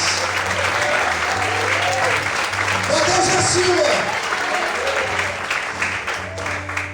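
A church congregation applauds during an evening worship service, a steady wash of clapping held for several seconds over sustained musical tones and voices.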